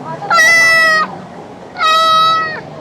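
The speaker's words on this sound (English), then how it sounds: "Say for example, a cat." A cat meows twice, two clear, loud, drawn-out calls, each lasting under a second, separated by a short pause.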